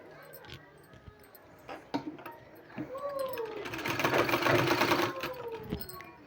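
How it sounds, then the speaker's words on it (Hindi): A sewing machine stitches a long four-inch-wide fabric strip for a sleeve design, running in a steady, rising burst mid-clip with lighter handling noises before and after. "इसको इस तरह से हमको इसमें सिलाई लगा देना है"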